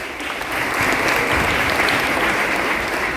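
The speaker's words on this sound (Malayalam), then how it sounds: "നല്ലൊരു കയ്യടി, അടിച്ചു പൊളിച്ചൊരു കയ്യടി കൊടുക്കണം എല്ലാ മക്കൾക്കും" Audience applause for children performing on stage, a dense steady clapping from a large crowd that swells slightly after the first half second and holds loud and continuous throughout, with no voices over it.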